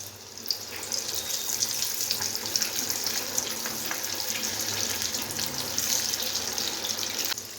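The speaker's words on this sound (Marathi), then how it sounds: "चला तेल आता आपला गरम झालेलं आहे बऱ्यापैकी, आता आपण त्याच्यामध्ये रोल सोडून देऊया।" Rolls fry in hot oil with a steady, dense hiss and bubbling crackle that holds even and close throughout, no voices.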